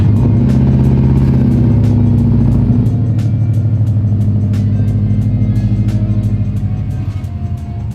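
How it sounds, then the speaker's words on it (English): A Subaru STI idles and pulls away close by, a steady loud engine rumble that drops slightly in level as the car moves off near the end. "Let's get Bobby's STI out of the way, give us a little bit more space to work on this thing."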